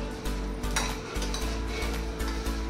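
Idli podi spice mixture roasting in a pan, with repeated scraping and clinking of a spoon against the metal over a soft sizzle, stirred in a steady rhythm up close.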